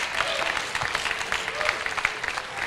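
Audience clapping at an air show reception. The applause is dense and moderately loud, steady throughout with brief peaks, and a faint voice sits beneath it.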